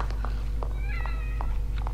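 A cat meows several times in The Evil Within horror video game, short high harmonic cries spread across two seconds over a steady low game hum.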